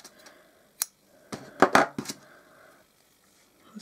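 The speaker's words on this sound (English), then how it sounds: "So I'm going to cut my yarn" Scissors cut knitting yarn at close range: a few crisp, quick snips, one on its own and then a tight cluster of three or four closing blades, with a quiet room around them.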